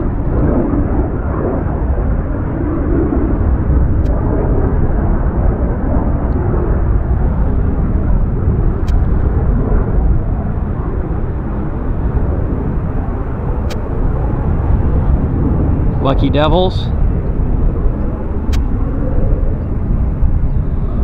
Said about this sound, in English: He's departing on runway 26 left, but he'll eventually turn to the right and head north.